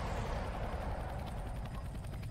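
A helicopter in an SCP horror video game makes a steady, dense rotor drone with a broad rumble that stays constant throughout, heard alone without talk.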